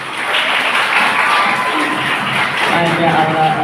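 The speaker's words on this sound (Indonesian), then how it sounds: "Tepuk tangan dong." An audience of santri and alumni at an Islamic boarding school gathering claps and cheers steadily for several seconds, a dense wash of applause filling the hall with murmured voices underneath.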